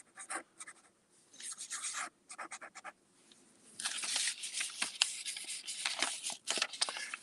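A fountain pen nib scratches across paper in short bursts of strokes, close and faint, with brief pauses before a longer run of denser scratching.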